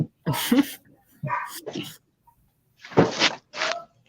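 A pet dog at home gives several short, sharp barks in two separate bursts with quiet pauses between them, fairly close and loud, with no talk over them.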